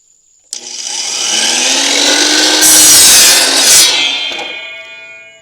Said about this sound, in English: I'm about to run a test with a miter saw.